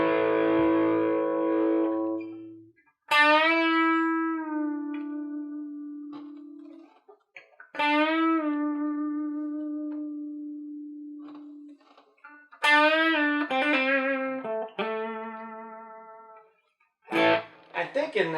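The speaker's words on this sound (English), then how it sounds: "I'm going to play a chord and we're going to go back and forth with it and just see how we sound." An electric guitar chord rings out through a Marshall amp with its reverb dialed in, struck several times in turn with sustained, decaying notes and short gaps between strums.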